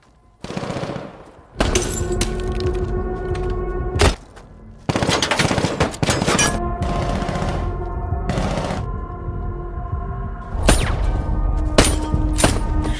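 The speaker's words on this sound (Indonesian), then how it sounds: "Di sini Mike terkena tembakan oleh Rusty, namun Rusty juga terkena tembakan oleh Mike" Loud gunfire erupts in a film gunfight, with rapid automatic bursts and single sharp shots in several separate volleys and brief pauses between them. No voices are heard.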